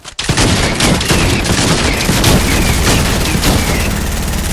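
Dense, continuous gunfire from a Fortnite match, rapid shots and booms overlapping into a loud, steady barrage for several seconds with no pauses.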